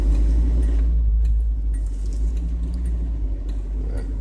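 A 1990 Nissan Micra engine idling on old gas, giving a steady low rumble close by with faint light rattles and clicks on top.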